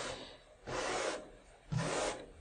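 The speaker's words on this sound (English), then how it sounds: "This is just a decorating brush," Plain decorating brush dragging a coat across a stretched canvas in two slow, rasping strokes, soft and close with quiet pauses between.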